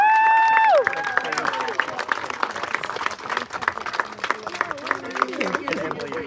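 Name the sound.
crowd applause at a renaissance fair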